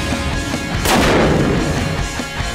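A big gun fires once at a shooting range, a single heavy boom with a long rumbling decay over steady outdoor background noise.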